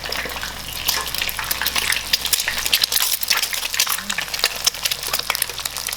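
Thai-style egg deep frying in hot oil, a loud, busy crackling sizzle with bursts of spattering throughout, close and continuous.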